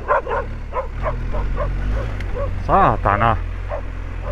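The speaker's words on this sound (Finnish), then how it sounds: "Koira lähti vähän perään siitä." A dog barks and yelps in quick repeated bursts close by during a trek in northern Norway, with a sharper pair of loud yips near the end and a voice heard over it.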